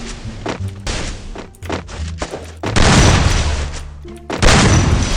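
Gunfire in a Free Fire match: loud bursts of rapid shots in several clusters, with heavy booming volleys toward the end, close and dominant with no talk over them.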